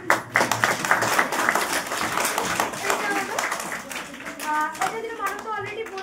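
A crowd at a gathering claps for a group of playful children, the applause spread across the whole moment while children's voices chatter and call out over it.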